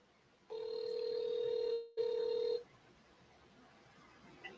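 A telephone ringback tone on an outgoing call: one long steady electronic ring lasting about two seconds, briefly cut, then resuming, heard clearly on a quiet line with faint background hiss.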